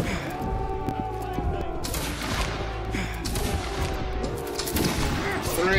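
Musket volleys crack out in the Roblox Wargram video game, a dense run of overlapping gunshots and booms layered over shouted commands and background chatter throughout.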